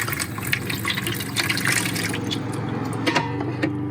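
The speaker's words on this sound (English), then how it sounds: "now we've got running water" Water runs into a caravan from an Aqua Roll container on a fully serviced pitch, a steady close gushing and splashing flow with small drips and spatters, heard alone.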